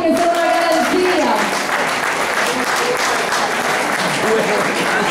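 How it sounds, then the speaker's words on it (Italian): Audience at a concert applauds a singing group, a dense, sustained clapping with crowd noise throughout, while a voice speaks over the applause. "Un applauso ai ritrovati che sono una garanzia."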